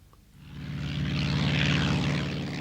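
The engine of a vintage biplane, the B-2, nearly 40 years old, drones with a steady propeller buzz that swells as it draws nearer, loud and sustained with no voices.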